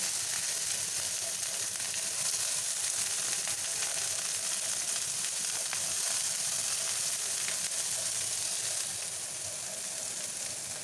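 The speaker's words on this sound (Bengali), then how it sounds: "তেলটা হয়ে গেছে আমি এখানে পেঁয়াজগুলো দিয়ে দেবো" Onions sizzle in hot oil in a pan, a dense, steady crackling hiss throughout that eases slightly near the end, with no voices.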